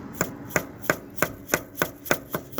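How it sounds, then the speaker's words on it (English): The sector shaft cap of a Ford 8N tractor steering gearbox is gently tapped out with a hammer: eight evenly spaced, crisp metallic knocks in a steady rhythm, close and moderately loud, with no voices. "tap on that. It'll take the whole thing out."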